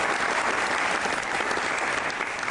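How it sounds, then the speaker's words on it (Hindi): Studio audience applause in a comedy show, steady dense clapping that stays loud and even throughout with no voices over it, then cuts off abruptly at the end. "बजा दो तालियां"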